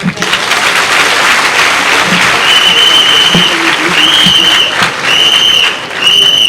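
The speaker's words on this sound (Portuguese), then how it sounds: "Eu gostava de reforçar mais uma salva de palmas." A large crowd gives a sustained, loud round of applause at a political rally where the United Patriotic Front president was elected, dense clapping throughout with a whistle or horn tone sounding repeatedly over it.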